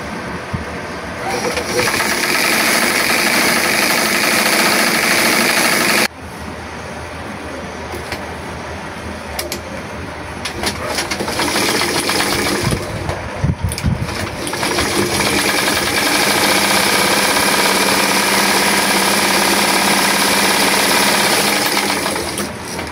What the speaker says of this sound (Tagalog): naikabit na natin ang sewing machine motor